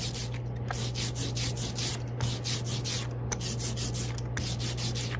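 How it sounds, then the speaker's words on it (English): A rubber brayer rolls back and forth through sticky printing ink for a relief print, making a steady, close tacky rubbing hiss with regular rhythmic pulses as each pass peels from the ink. "you can hear how sticky the ink is"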